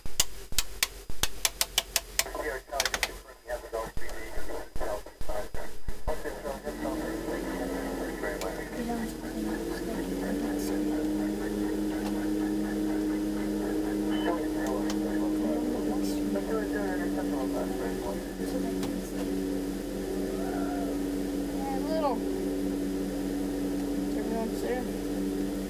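A simulated aircraft engine in the X-Plane 8.21 flight simulator starts up on a home-built rig, with clicks and sputters at first, then a steady droning hum that holds at an even, moderate level.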